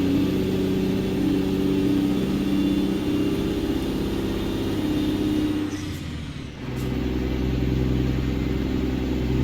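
Mack F700 truck engine in American Truck Simulator revs steadily through a nine-speed gearbox, droning loud and close, dipping briefly during a gear shift before the engine note resumes and settles lower.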